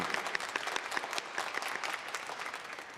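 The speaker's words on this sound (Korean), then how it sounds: "우리 축복의 박수 함께 보내셨으면 좋겠습니다" A church congregation applauds visiting guests as a blessing, many hands clapping in a continuous, slightly uneven patter, heard at a modest level from some distance.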